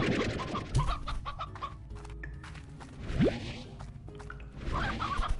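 Hens clucking in the video game Slime Rancher, a steady busy chatter of clucks and squawks with a couple of rising whistle-like swoops over it, continuous and fairly close.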